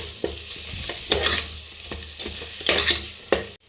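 Mutton paya being stirred into masala spices in a hot pan, giving a steady sizzle broken by several scraping stirs of the spoon, close and fairly loud, ending abruptly.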